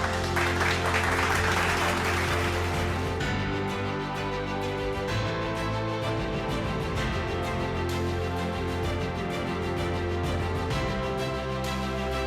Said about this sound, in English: Ladies and gentlemen, please keep your applause going